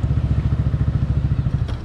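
A loud motorcycle engine on a road ride runs steadily close by, its low exhaust pulses thumping in a fast, even rhythm with no voices.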